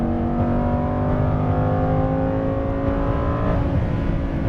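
A Lamborghini Huracan Performante accelerates hard on a race track, its engine note climbing steadily in a loud, continuous howl from inside the car, then dropping sharply at an upshift before climbing again.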